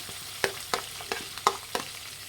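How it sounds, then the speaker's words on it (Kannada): Two lengthwise-sliced onions frying in a pan for tomato masala rice, heard as a soft sizzle broken by evenly spaced scraping stir strokes, close by, with no voices. "ಈರುಳ್ಳಿ ಒಂದು ಸ್ವಲ್ಪ ಚೆನ್ನಾಗಿ ಫ್ರೈ ಆಗಬೇಕಾಗುತ್ತೆ."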